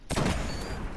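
Heavy weapon fire in the shooter game Destiny: a loud burst of rapid shots cracking in right after a moment of silence and carrying on steadily to the end, with no talking.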